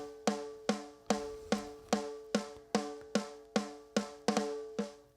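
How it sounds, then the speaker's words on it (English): Ringing snare drum sample hit about a dozen times at an even pace, each crisp strike leaving a pitched, tonal ring that sustains between hits, heard alone with no talking. "And that's like really like a ringing snare"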